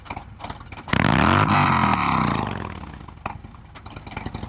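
Motorcycle with a Zippers 124 Sleeper Kit, Fuel Moto 2-1-2 head pipe and Jackpot mufflers revs hard from idle in one loud, rising blast of about a second and a half, then falls back to a rough, lumpy idle.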